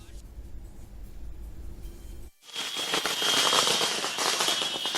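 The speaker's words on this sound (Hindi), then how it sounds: "आरजेडी के दफ्तर के बाहर आप देख सकते हैं पटाखे जलाए जा रहे हैं" Firecrackers set off outside the RJD party office in Patna during the 2020 Bihar election results, a dense loud crackling burst that starts abruptly after a stretch of quieter street noise with talking.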